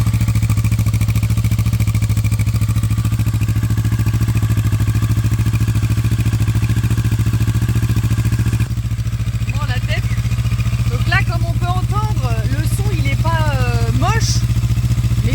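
An Akrapovič-exhausted motorcycle engine idles loudly and steadily with a deep throb, then briefly revs, with squealing tones rising over the rumble near the end.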